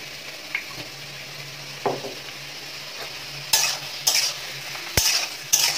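A spoon stirs and mixes chilli in a frying pan, with soft scraping and gentle sizzling followed by four sharp metallic clinks of the utensil against the pan.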